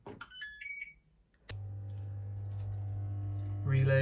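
A washing machine gives a click from its relay, then water rushes steadily into the drum, a continuous hum-like fill with a rise toward the end, after a few electronic beeps from the control panel.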